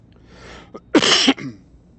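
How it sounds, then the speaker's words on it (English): A short burst of coughing, two or three harsh bursts close to the listener in an otherwise quiet space. "I'm sorry about the coughing."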